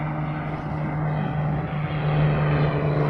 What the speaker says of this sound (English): Is it a plane coming over there?